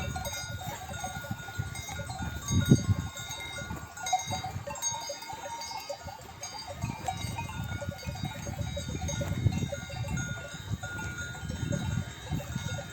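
A flock of sheep grazes at night on rocky pasture, with a dense, continuous jangle of many small bells over a low rustling bed and occasional faint bleats.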